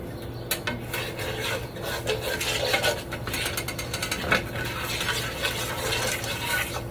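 Green beans frying with bacon in a pan for an Asian-style dish, giving a steady low crackle with clinks and scraping of utensils against the pan throughout, close by and without talk.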